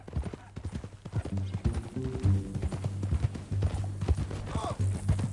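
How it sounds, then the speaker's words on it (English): Steady clip-clop of horse hooves plodding along in Red Dead Redemption 2, with a deep rumbling tone underneath and a brief whinny near the end. "That a new horse?"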